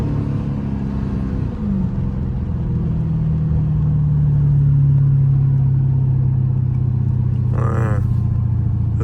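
Dodge Hellcat fitted with a drag pack idles loud and close in a deep, steady rumble, its pitch dipping slightly as the engine settles, with a brief higher blip near the end.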